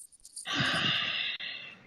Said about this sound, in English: What is that heavy breathing in the background?